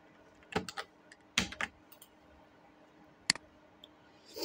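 Short clusters of soft clicks come from fingers typing a message on a computer keyboard, with pauses between the bursts, in a quiet room.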